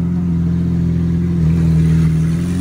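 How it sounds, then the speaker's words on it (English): A Lamborghini Centenario engine revving loudly up close, a deep steady droning roar that swells and holds in pitch, then climbs slightly toward the end, with no talk over it. "Rev it!"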